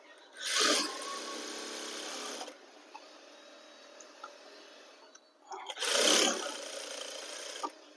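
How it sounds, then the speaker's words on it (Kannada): Sewing machine stitching pant legs in two short runs, each quickly fading into a steady low hum, with quiet handling sounds between the bursts. "ಈ ಥರ ಸ್ಟಿಚ್ ಮಾಡ್ಕೊತೀನಿ"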